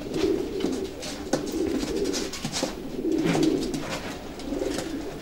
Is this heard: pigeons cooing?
yes